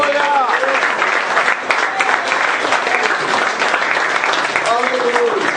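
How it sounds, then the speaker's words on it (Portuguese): Loud, dense applause from a church congregation fills the space continuously, with voices calling out over the clapping and rising cheers near the start and end. "Dá uma salva de palmas, por favor"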